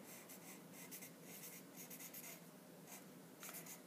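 Handwriting on paper while working through naming ionic compounds of a transition metal, chromium with chromate, as steady scratchy pen strokes in short bursts, close and fairly quiet with no talking.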